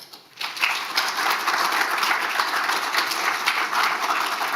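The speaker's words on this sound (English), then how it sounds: "Round of applause." A round of applause from an audience at the close of an evening talk event, a dense, even patter of many hands that begins abruptly and holds steady.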